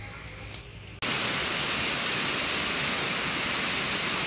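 Steady rain falling during a motorbike trip from Morowali toward Poso in Sulawesi, Indonesia: after a brief quieter moment it becomes a loud, continuous, dense hiss of rainfall close by, with no talking.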